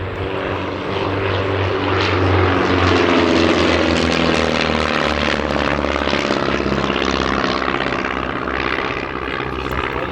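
A propeller plane roars past close by at an air festival display, its engine drone swelling and holding loud for several seconds before easing slightly, with no talking.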